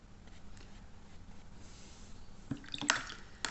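Paintbrush rinsed in a jar of water while painting a loose watercolour allium flower: soft close-up swishing and dripping, quiet at first, then a few brief splashy taps near the end.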